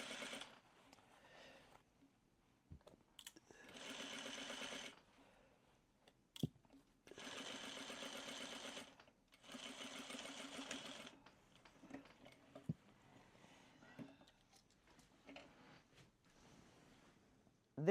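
A sewing machine stitches tucks into a dress, running in several steady whirring bursts of a few seconds each with quiet pauses and small clicks between them, close up and with no talking.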